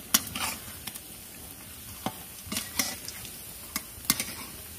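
Cabbage pakoras deep-fry in hot oil, giving a quiet bubbling sizzle with scattered sharp clicks and scrapes from a spatula stirring and turning the fritters.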